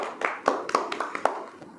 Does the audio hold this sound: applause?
yes